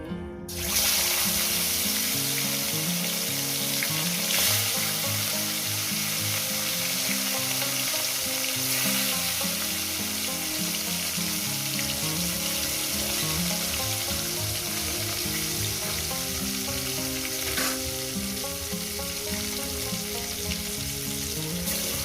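Salted fish pieces for a spicy fish curry with potato, eggplant and bori hiss in hot oil in a pan, a dense, even sizzle that runs continuously and loud throughout, no voices.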